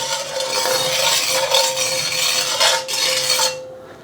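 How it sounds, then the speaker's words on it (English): Hot oil swirled around a steel wok for a Chinese beef stir fry, giving a steady close sizzle and hiss with light metallic scraping and clinks that fades out near the end. "Get it hot, put cold oil in, get it hot again, give it a swirl around."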